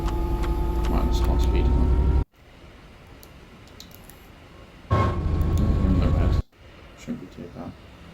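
UK freight train hauling a full 1,800-ton aggregates load in a train simulator game, accelerating: a loud steady low engine drone with a faint high tone, cutting out abruptly twice and returning, with quieter rumbling between.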